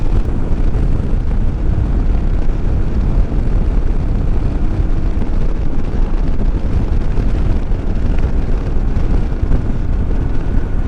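A loud, rough car engine roar in fourth gear at about 50 to 60 mph, slightly downhill, holds steady throughout, thick with low rumble and wind buffeting, as if heard from inside the moving car.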